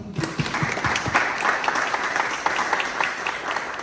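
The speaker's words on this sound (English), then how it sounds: "Give it a round of applause for yourself." Audience at a Port Arthur, Texas community event applauding steadily and densely, a full wash of many hands clapping at close range with no voices on top.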